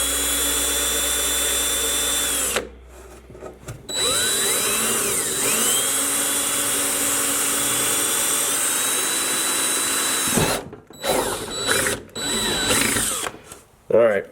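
Power drill whirring steadily while assembling a Harley-Davidson tour pack with large backrest and luggage rack; long continuous runs with pitch shifts, a brief stop, then short bursts near the end.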